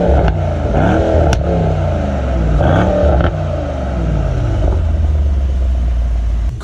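A Mercedes-AMG E63S sedan engine revs hard several times in a row, loud and close, each sharp rise falling back to a deep rumbling idle.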